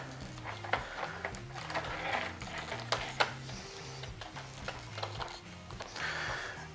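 Trimmer line (.065) is wound by hand onto a Ryobi trimmer edger spool, making faint, soft ratcheting clicks and plastic rubbing under quiet background music.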